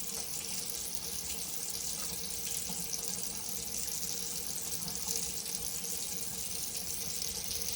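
Water runs steadily from a tap while a flush sample is collected, a continuous loud splashing hiss that holds without a break from start to finish.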